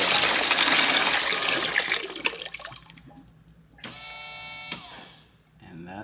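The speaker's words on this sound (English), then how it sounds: "So it pumped the water into this bucket pretty quick." Water pumped out of a homemade air-to-water intercooler for a supercharged C6 Corvette into a bucket: a loud rushing gush that tapers off into trickles and drips, then a couple of sharp splashy bursts near the end.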